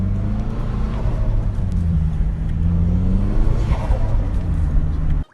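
A Mazdaspeed3 fitted with a front-mount intercooler pulls away, its engine revving in a loud, steady rumble with rising and falling tones that cuts off abruptly at the end.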